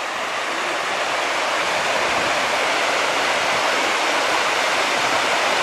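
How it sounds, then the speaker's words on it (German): Constant rushing water, a dense broadband roar from a nearby stream by a bridge near Neuschwanstein Castle, steady and unbroken throughout. "Hier vor der Brücke hört man schon das Wasser laufen."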